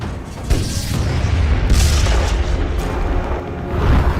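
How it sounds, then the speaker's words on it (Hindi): Davy Crockett nuclear weapon explosion, a low rumbling boom that swells and rolls on for several seconds, loud and dense with heavy low-end roar. "डेवी क्रॉकेट का धमाका 50 मीटर के दायरे में होता है।"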